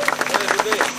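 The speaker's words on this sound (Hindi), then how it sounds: "तालियां बजा दो," A crowd claps at a public welcome event in Haryana, with a short burst of steady applause running under a voice on a loudspeaker.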